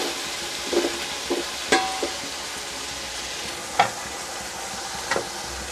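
Potatoes dropped into a frying pan of hot oil for a Pakistani-style chicken vegetable rice dish, a steady sizzle broken by a few soft clunks and scrapes of stirring, close and moderately loud with no talking.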